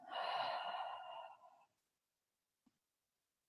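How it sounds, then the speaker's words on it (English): A single long, soft breath exhaled through the mouth during a guided yoga relaxation, close and steady before fading into near silence, with a faint small sound near the end. "exhale through the mouth."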